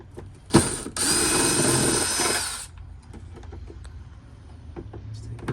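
A power screwdriver with a Torx star bit buzzes in one short burst and then a longer steady run of about two seconds, backing out screws, followed by quiet clicks and faint handling noises.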